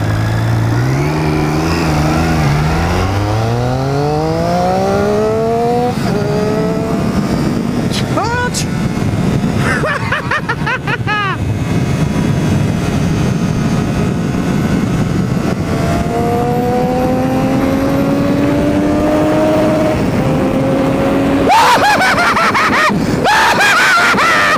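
A motorcycle on the highway accelerates hard, its engine note climbing steeply through the gears, then settling into a sustained high-speed roar with wind noise, and rising once more near the end.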